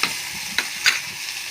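Ground tomato sautés in a pan, giving a close, steady sizzle broken by a few sharp stirring scrapes, with no talking.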